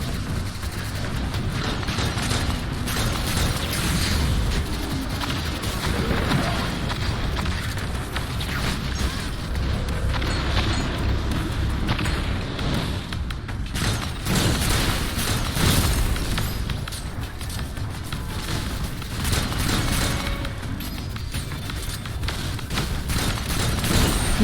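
Dense, continuous enemy gunfire and explosions in the Destiny 2 video game, Season of the Splicer, with rapid shots and booms layered without pause over a full, loud game soundscape.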